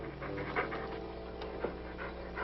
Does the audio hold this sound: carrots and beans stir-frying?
no